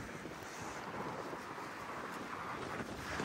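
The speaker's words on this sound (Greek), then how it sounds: "Δυστυχώς έχει πάρα πολύ αέρα" Strong wind of around 6 Beaufort gusting outdoors at an adventure motorcycle meeting at the technology park in Lavrio, a steady broadband roar buffeting the microphone throughout with no talk.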